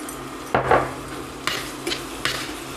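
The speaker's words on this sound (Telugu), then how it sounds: "ఇప్పుడు ఈ ఉల్లిపాయలని పచ్చిమిరపకాయలని బాగా వేగనివ్వాలి." Chopped onions and green chillies fry in a pan for an egg masala curry, with a soft steady sizzle and a few spatula scrapes and taps against the pan.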